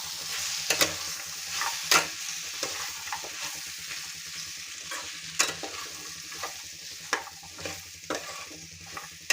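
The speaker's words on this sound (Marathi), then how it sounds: "त्यानंतर वालपापडी आणि वांगे तर ह्या सगळ्या भाज्या आपल्याला तेलामध्ये मिक्स करायच्या आहेत" Val papdi beans and brinjal stirred in hot oil, giving a continuous close sizzle broken by irregular spoon clanks and scrapes against the pot.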